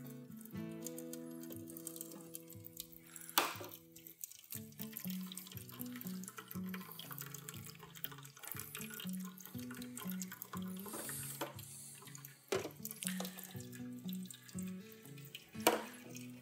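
Pureed food strained back into a container while cooking comfort food makes wet patters, drips and splashes with occasional sharper clanks of utensils against the vessel throughout.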